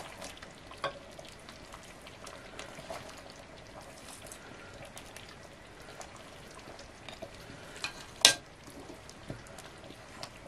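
Meat sears in a hot pan with a steady, crackling sizzle throughout, and a sharper clatter stands out briefly near the end.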